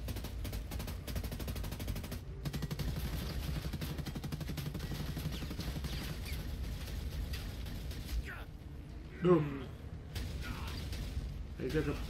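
Gunfire in Ghost Recon Breakpoint, steady automatic fire rattling through most of the stretch under a constant game mix, then a single heavier shot with scattered effects near the end as a person talks.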